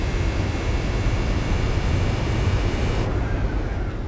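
A race car engine in Gran Turismo 4 drones loudly and steadily throughout, a dense, continuous roar with no breaks or talking.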